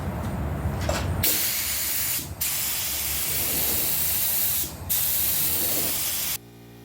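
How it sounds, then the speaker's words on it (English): Heavy spray of high build primer onto a Husqvarna RZ 5424 lawn mower cutting deck, a loud steady hiss in long bursts broken by two brief pauses, close by and with no talk. "we're just using a high build primer, and we'll just throw that on pretty heavy then"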